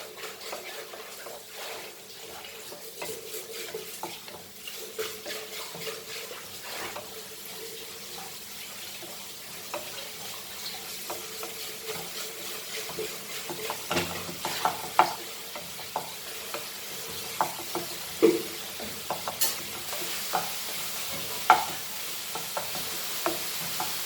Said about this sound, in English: Mix this nicely, all very nicely. Fry it.